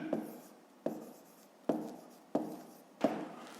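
A pen writes by hand on paper while working a fifth-grade math exercise: five short, close scratchy strokes at even intervals, each fading quickly, with no voice.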